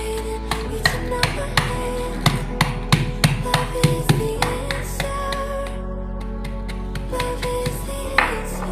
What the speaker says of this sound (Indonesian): masukin ke dalam plastik, nanti kita hancurkan pakai batu atau palu